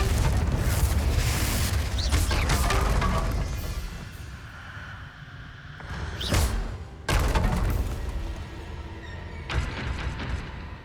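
Confringo fire-blast spell in Hogwarts Legacy going off in a haunted Hogsmeade shop, a series of deep booming blasts, some long and rumbling and others short and sharp, spread across the span with quieter rumble between them.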